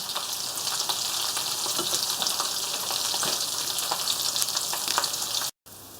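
Gammon and potato patties fry in a pan with little or no oil, giving a loud, dense, continuous sizzle close up with faint crackles, cut off briefly near the end.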